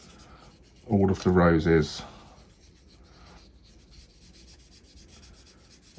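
A brush-tip marker spot-colours roses on patterned paper, making soft, faint scratchy strokes close to the mic. A short stretch of speech comes early, then the quiet rubbing continues alone.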